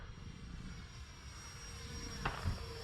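An E-flite Viper RC model jet makes a slow pass, giving a faint, distant turbine whine that swells slightly, with a brief brighter burst near the end.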